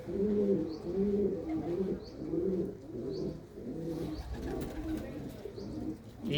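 Several pigeons coo continuously in repeated low, rolling phrases, close and steady, with faint higher chirps now and then and no talking.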